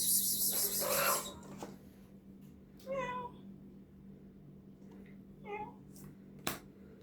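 A cat meows a couple of times at close range amid a quiet room, with a brief burst of noise at the start and a sharp tap near the end.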